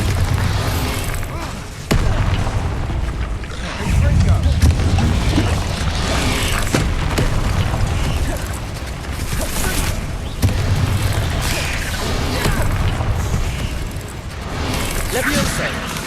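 A Bombarda explosion spell in Hogwarts Legacy booms loudly amid a steady wash of combat noise, with repeated heavy blasts and a voice shouting spell names over the fighting.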